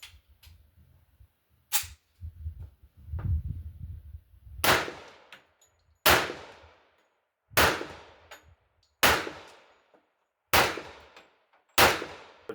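A 1911 pistol fired at steel targets about 10 to 25 yards away, about seven sharp, evenly spaced shots with ringing metallic decay, loud and close with no talking.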